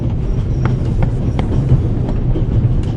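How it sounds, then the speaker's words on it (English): A steam-era Orient Express train rattles through the Swiss Alps in the game The Raven Remastered, a loud, steady low rumble with faint rhythmic clicks of wheels over rail joints. "The noise on this train is driving me crazy."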